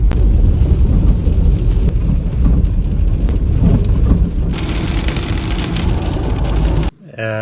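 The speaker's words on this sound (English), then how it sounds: "Oh, now it's hailing, unbelievable." Hail pelts a vehicle during a storm on a road in Lesotho near the border: a loud, dense, continuous rattle and roar that holds steady for about seven seconds before cutting off abruptly.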